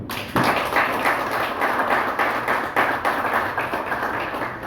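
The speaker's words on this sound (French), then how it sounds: "Mes agents de sécurité, je vous demande de les applaudir." A crowd at a union's 30th anniversary celebration claps steadily and densely throughout, a sustained round of applause from many hands for security agents, fairly loud and close.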